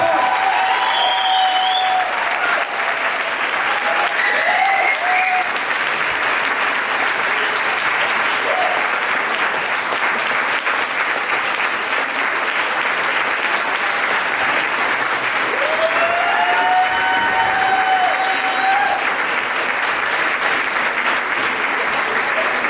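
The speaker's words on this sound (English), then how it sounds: "Can we give them a massive round of applause?" A seated audience at a swing dance festival history talk gives a long, loud round of applause, dense clapping that holds for over twenty seconds with scattered whistles and cheers rising above it.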